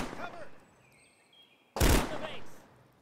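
Gunfire in the game KARMA, with a sharp, loud burst about midway through, followed by a decaying tail, and a fainter shot sound earlier over a low background.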